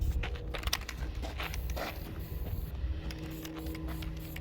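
An aerosol can of copper gasket spray hisses in short bursts while working on a Ford Cummins truck engine, with uneven spurts and some clatter over a steady background hum.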